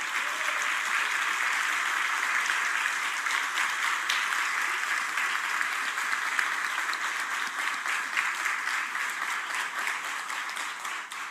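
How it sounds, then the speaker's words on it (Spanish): A large crowd at an honorary doctorate ceremony applauds steadily and vigorously, dense clapping sustained throughout and tapering slightly at the end. "el aplauso fuerte de esta mañana"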